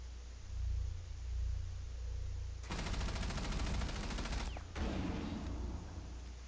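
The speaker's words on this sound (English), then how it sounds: "Someone's shooting me from second floor." Rapid gunfire in a Rainbow Six Siege match, a dense burst of shots lasting about two seconds after a low rumbling lull, then a short gap and a second, weaker volley.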